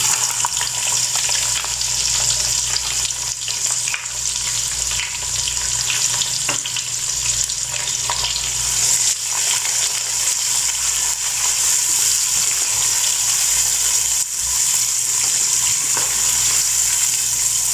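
Chopped onions fry in a pot for chicken chana pulao, giving a loud, steady, close sizzle with occasional stirring scrapes and no voices throughout.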